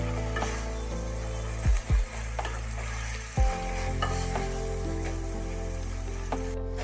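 A fish head frying in spiced masala with a steady close sizzle, broken by a few distinct scraping stirs of a spatula in the pan; no voices.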